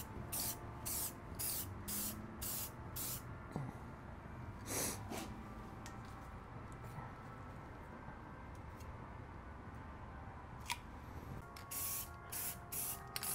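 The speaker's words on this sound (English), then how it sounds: "So the big reason I like doing spray paint for anything that gets really used off-road" Short hissing bursts of spray paint are sprayed onto Jeep TJ Wrangler suspension uprights, coming in quick clusters of several rapid pulses with pauses between, close and fairly quiet, with faint handling noises in the gaps.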